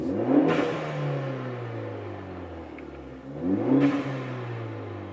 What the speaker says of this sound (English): And now we're gonna do some exhaust sounds from inside.